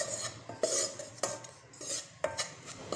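Corn flour dry roasting in a pan without oil, stirred with a utensil that scrapes and clinks against the metal in a few distinct strokes, close up, with no talking.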